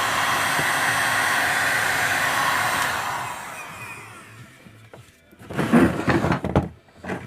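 An Einhell TH-HA 2000/1 heat gun runs on its second setting, giving a steady, close blowing roar for about three seconds before it fades, followed by a few handling knocks and thuds.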